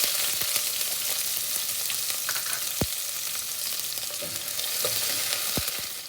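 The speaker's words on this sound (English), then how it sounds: "We'll just saute this for 1 minute." Chopped onion sautéing in hot ghee with spluttering cumin seeds, a steady close sizzle with occasional sharp pops and crackles throughout.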